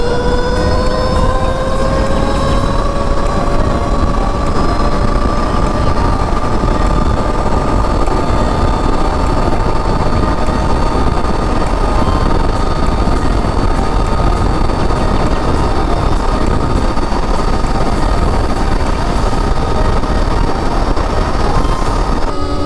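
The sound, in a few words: Stark Varg electric motorcycle at top speed in mode 5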